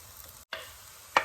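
Onions sauté in olive oil for a bacon glass-noodle stir-fry, making a soft sizzle and a spatula scrape, with a short gap and one sharp stirring clatter near the end.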